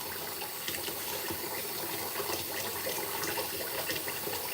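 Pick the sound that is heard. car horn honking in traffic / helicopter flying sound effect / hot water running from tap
hot water running from tap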